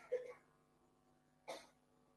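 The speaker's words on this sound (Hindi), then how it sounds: "खांसी और खांसी." Two brief coughs from a lecturer during a physiology lesson, roughly a second and a half apart, each a short broadband burst at moderate level over quiet room tone.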